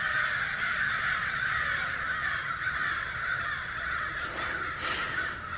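Crows caw repeatedly in the distance over a steady outdoor wash of wind or water noise, their calls faint and blended into the background with no talking.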